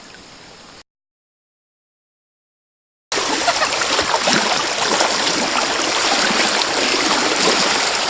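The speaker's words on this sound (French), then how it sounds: "Ruisseau polaire après une grosse pluie." Swollen polar stream rushing after heavy rain on the Pokemouche, a loud continuous broadband roar of water heard up close, broken by a few seconds of total silence before resuming at full strength.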